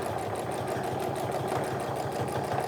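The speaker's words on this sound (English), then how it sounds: "And then keep on sewing all the way to the end." A sewing machine stitches a seam on a tote bag in a continuous, steady mechanical whir with a regular rapid needle rhythm, close and alone with no talk.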